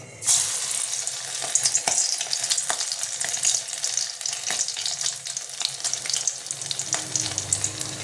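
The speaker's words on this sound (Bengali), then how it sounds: "এর মধ্যে নিয়ে এরকম করে বড়াগুলো আমি ছেড়ে দেবো।" Fish oil fritters (macher tel er bora) frying in hot oil, a loud, close, bubbling crackle with scattered sharp pops and spatters throughout.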